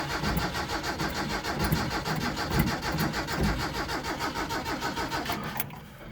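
An old engine cranks over steadily on a reconditioned battery, with a fast rhythmic churning that goes on for about six seconds without firing, then stops abruptly.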